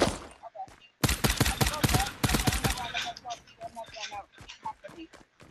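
Pistol target practice in Fortnite, rapid bursts of sharp gunshots in quick succession, loud and close, then scattered single shots tapering off.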